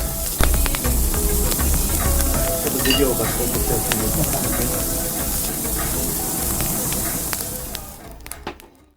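Marinated chops sizzle on a South African braai: a loud, close, dense crackling hiss that runs steadily, then fades away near the end.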